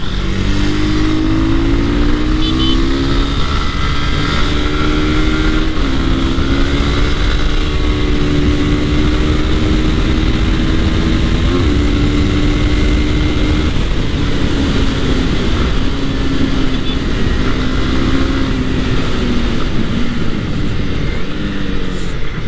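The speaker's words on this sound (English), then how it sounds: "the CB300R is a great bike, man. Love this engine." A Honda CB300R motorcycle engine hums steadily and loudly throughout a ride, its pitch climbing and falling through gear changes over constant wind rush, with no talk.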